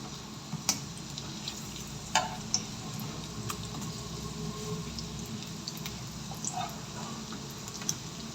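Egg foo yung frying over low heat in a pan, a steady soft sizzle with faint crackles and a few small pops throughout, fairly quiet and without voices.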